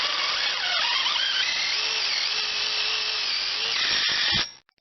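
Steel-cutting bit on a drill spinning up against a polytunnel fitting, a steady close whine holding for about four seconds with shifting pitch, then cutting off abruptly.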